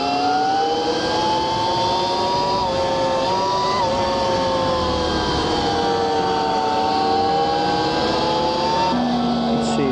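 An 88V electric dirt bike accelerating hard, its loud motor whine climbing steadily in pitch and holding near constant throughout, close and continuous with no engine rumble.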